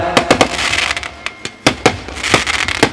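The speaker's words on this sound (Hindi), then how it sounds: "फटाकों की आतिशबाजी में" Firecrackers and fireworks go off at a cricket tournament welcome celebration: a loud, irregular string of sharp close bangs and crackles over about three seconds.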